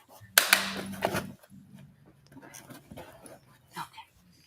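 A dog pants and snuffles close by in a few short bursts, with a brief whimper and quiet gaps between.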